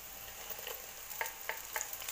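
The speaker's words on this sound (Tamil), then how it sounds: "இதுவும் சேர்த்து நல்லா வதக்கலாம்" Tomato paste sizzles in hot oil in a pan for chicken curry, a faint, soft frying hiss punctuated by a few light stirring scrapes and clicks.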